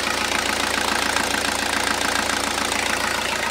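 A 1995 Isuzu 4BD2T diesel engine idles steadily just after a glow-plug start, a close, continuous mid-pitched clatter with an even knocking rhythm and no voices.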